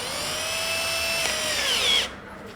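An INGCO 12 V cordless drill spins a 25 mm spade bit in a short steady whine that rises slightly, then winds down and stops, close and alone.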